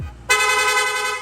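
A PIAA dual horn fitted to a Honda ADV160 scooter sounds one loud, steady, buzzy blast held for about a second, close by, with no talk over it.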